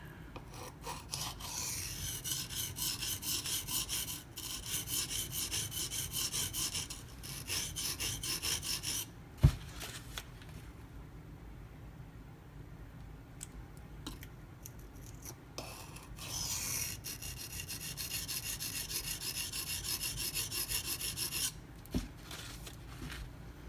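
A Zero Tolerance 0393 folding knife with a CPM-20CV steel blade is sharpened in alternating passes to break off the burr. Rhythmic, raspy scraping strokes come close and fairly quiet in bursts, with short pauses and a sharp tick partway through.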